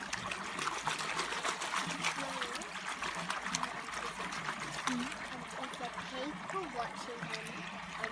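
Water sloshes and trickles continuously as gold is panned from Reedy Creek pipe clay, a close, busy swirl of splashing and dribbling with a voice talking over it.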